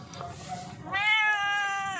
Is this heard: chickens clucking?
no